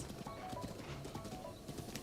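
Horse hooves clop at a walking pace in the video game Zelda: Breath of the Wild, a soft, uneven patter of steps set low against a faint outdoor background.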